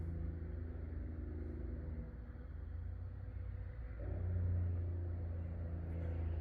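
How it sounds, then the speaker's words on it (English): A truck's Jake brake sounds in the distance near a wood yard as a faint, low, steady rumble that swells slightly toward the end, with no voices. "Well, I hear a Jake brake."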